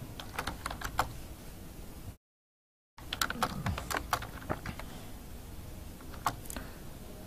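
Steady typing on a computer keyboard, clicks tapping along in quick bursts with a short gap of silence midway, keys close and clear with no voices.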